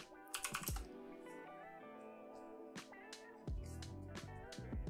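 Bursts of clicky keyboard typing, quick taps in short runs with pauses between, close and fairly quiet.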